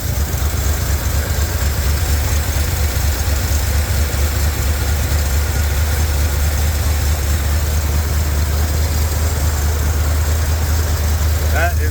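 Chevrolet C10 pickup truck engine idling steadily on a late, cold night, a loud, close, constant low rumble with no change in rhythm throughout.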